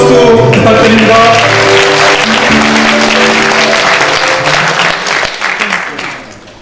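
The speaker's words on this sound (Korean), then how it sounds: "여러분 큰 박수 부탁드립니다" A loud audience applauds at a Korean party convention electing a leader and council members, with dense clapping over a sustained musical fanfare that fades toward the end.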